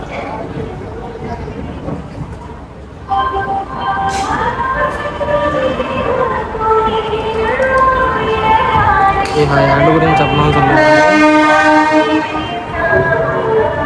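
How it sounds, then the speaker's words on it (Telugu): A passenger train pulls out of Vijayawada Junction bound for Guntur, its horn sounding in long tonal blasts over rumbling wheels, heard from on board with a voice talking throughout. "విజయవాడ నుంచి అయితే ఇప్పుడు స్టార్ట్ అయిపోతాం మనం గుంటూరుకి"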